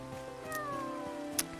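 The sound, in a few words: cat meowing in video game Paleo Pines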